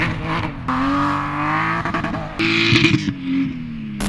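A rally Porsche on ice bangs against its rev limiter in loud, close bursts, the engine note stuttering and holding at high revs, with a brief dip before revving hard again.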